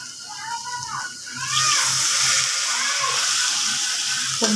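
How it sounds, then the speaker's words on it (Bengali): A little water is poured into fish curry spices frying in a pan. A soft background sizzle suddenly becomes a loud, steady steaming hiss, while a voice talks over the start. "এই পর্যায়ে আমি একটু পানি দিয়ে দেব কষানোর জন্য"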